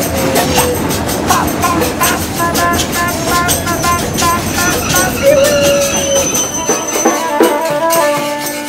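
A train rolls along steadily and loudly in northern Brazil, with a continuous rumble, rhythmic clatter and metallic squeals and tones layered over the running noise.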